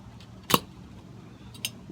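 A bottle of Carton Shipwreck Porter beer being opened, a single sharp crisp pop or hiss burst, followed about a second later by a fainter clink, close and otherwise quiet.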